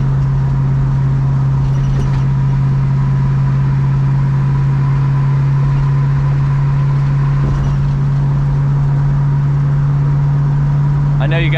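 A 1970 Plymouth Barracuda's engine runs steadily while driving, a continuous low, loud hum with a strong droning tone and faint road noise, plus a couple of brief knocks from potholes along the way.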